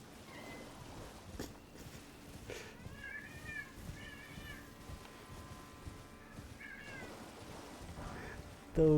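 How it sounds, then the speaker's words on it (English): A cat lying on its back gives several soft, drawn-out meows in a quiet room, spaced apart with pauses between, fairly faint and alone without talk. "Those noises are currently being made by a cat laying on his belly."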